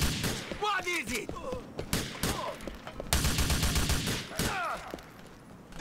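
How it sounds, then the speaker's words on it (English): Gunfire from Grand Theft Auto IV rattles in rapid volleys and scattered single shots, with thuds and impacts mixed in. A voice talks over the shooting throughout. "Who's shooting me?"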